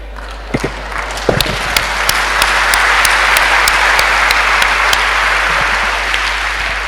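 A church congregation at Remera parish breaks into sustained, full applause after a few scattered early claps, the dense clapping holding steady and loud to the end with no talk over it.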